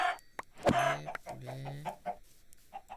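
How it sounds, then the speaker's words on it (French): A Minecraft chicken clucks in a short burst of several close, clear squawking notes, followed by a couple of softer clucks, with no talking. "Poulet."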